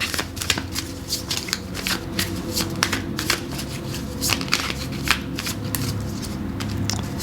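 Tarot cards shuffled by hand in a steady run of quick riffling bursts over about seven seconds, with a low hum in the background and no talking.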